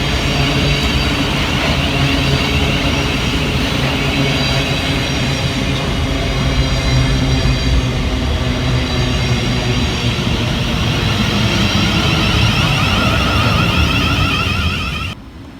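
Two coupled Southeastern Class 707 electric trains, 707-012 and 707-021, pulling into a platform at Waterloo East, a loud close rumble with tonal traction whine and wheel noise, sustained until an abrupt drop at the very end.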